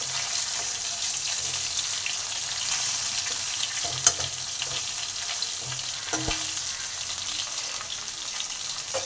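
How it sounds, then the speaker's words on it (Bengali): Fish heads frying in hot oil in a pan while being turned, a steady bright sizzle throughout with occasional clinks and stirring scrapes. "মাছের মাথাটা উল্টে পাল্টে লাল লাল করে ভেজে তুলে নেব।"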